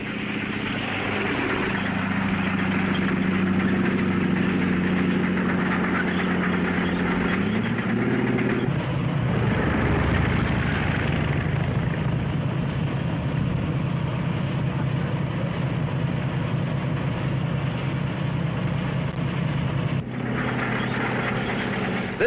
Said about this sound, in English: Our armored vehicles move toward the forward positions.